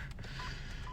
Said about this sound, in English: So excuse that beeping. Obviously, I haven't got my seatbelt on.